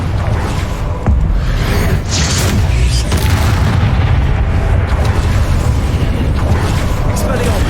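Confringo spell blasts go off in the Hogwarts Legacy video game, a loud sudden burst followed by further explosive booms over a dense, continuous rumble of game noise, with a voice speaking at times.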